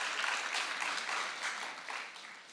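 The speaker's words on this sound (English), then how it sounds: "Let us once again give Mr. George Bochiwe a golden round of applause," Sustained audience applause at a communicators' conference, a dense wash of many hands clapping at steady volume that tapers slightly toward the end.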